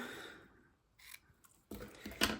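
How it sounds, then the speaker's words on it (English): Ribbon scissors snip through ribbon up close, giving a couple of quiet, crisp cutting sounds with a brief rustle between them in a quiet room. "my ribbon scissors."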